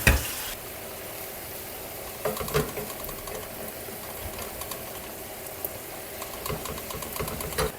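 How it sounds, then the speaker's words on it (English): Pasta water poured into a pan of Tuscan kale gives a steady sizzle and hiss, with occasional clicks and stirring scrapes throughout, close and fairly quiet, with no voices. "Now we're gonna add in some of this pasta water."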